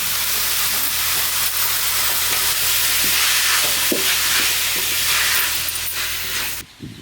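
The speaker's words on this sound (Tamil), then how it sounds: "இது கூட தக்காளி கொத்தமல்லி ரெண்டையும் சேர்த்து வதக்கிப்போம்" Tomato and coriander sautéing in ginger garlic paste in a pan, a steady loud sizzle and hiss with faint stirring scrapes throughout, cutting off near the end.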